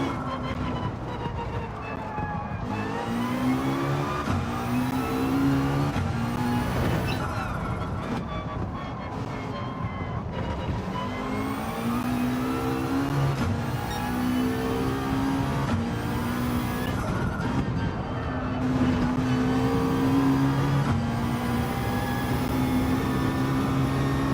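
A McLaren 650S GT4 race car engine in Gran Turismo 7 drones and rises steadily through the gears, with repeated climbs in pitch and brief shifts over a long, loud run.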